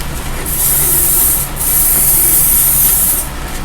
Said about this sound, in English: Little spray there.